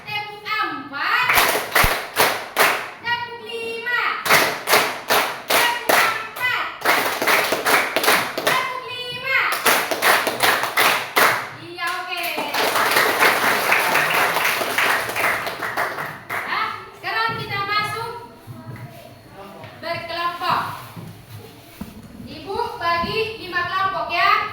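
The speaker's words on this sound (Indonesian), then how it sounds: "tepuk 1, tepuk 2, tepuk 3, tepuk 4" Children and a teacher play a counted clapping game together, with bursts of sharp, rhythmic hand claps in quick groups, separated by chanting and speaking voices that continue throughout.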